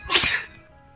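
A robot character in the video game Monster Prom gives one sharp sneeze, a short inhaled lead-in then a loud hissing burst that fades quickly, heard close up with no talking.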